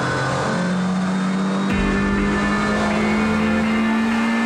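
GTC Series race cars at Zwartkops circuit, a loud sustained engine drone holding a steady pitch, with a sharp shift partway through as another car's note joins, continuous and close.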